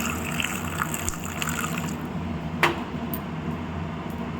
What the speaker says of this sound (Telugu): ఇది వేసుకొని అట్లా కొన్ని నీళ్ళు పోసుకోవాలి